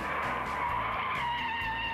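Classic American race cars skid in a four-car tangle in the first turn of a racetrack, a steady tire screech with engine drone beneath, loud and sustained for about two seconds.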